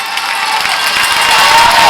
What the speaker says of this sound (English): Dog crowd rises to their feet, cheering on the defense